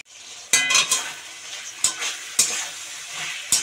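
Spice masala stir-fried in a pan for a fish head curry, with a soft continuous sizzle broken by several sharp scrapes and clinks of a spatula against the pan at irregular intervals.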